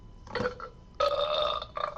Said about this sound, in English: That was a burp. Now that was a burp.